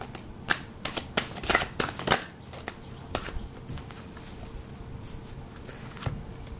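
Tarot cards being shuffled by hand, a close series of soft riffling flutters and crisp snaps coming in uneven bursts, fairly quiet, with no talking.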